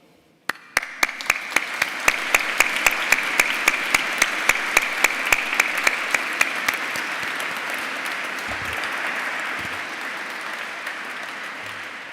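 Applause from a large audience at a university graduation ceremony inside Canterbury Cathedral, with a sustained wash of clapping carrying loud and steady through the reverberant space before slowly tapering off.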